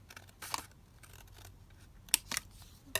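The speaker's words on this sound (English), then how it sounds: "So I'll just trim that off." Scissors trim paper in a few quick, sharp snips, faint and close, with quiet handling between cuts and no speech.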